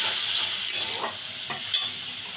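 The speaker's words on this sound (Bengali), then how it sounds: "দিয়ে এবারে আমি মশলাটাকে খুব ভালো করে কষাবো।" Ginger paste and spice paste sizzle in a pan as they are stir-fried, a soft continuous hiss broken by a few quick scraping strokes of the spatula, close and fairly quiet.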